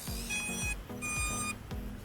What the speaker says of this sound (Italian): accendo il radiocomando che fa doppio beep